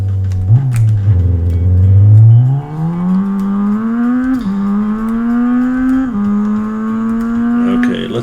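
A car engine in a video game revs continuously, its pitch climbing steadily and dropping briefly at each gear change, loud and close with no talk over it.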